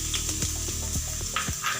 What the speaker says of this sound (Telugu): ఇప్పుడు ఆనియన్స్ వేసుకోవాలి.